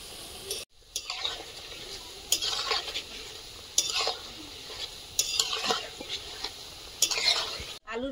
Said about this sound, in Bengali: আলুর পকোড়া ভাজা হয়ে গেছে,